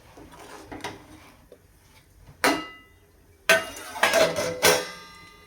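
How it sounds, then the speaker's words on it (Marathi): A metal lid set down on a cooking pot of simmering dhaba-style cluster bean (gavar) curry gives a few sharp clanks near the mic, with quieter kitchen handling noise between them. "आता आपण ह्याला झाकण घालून ठेवूया."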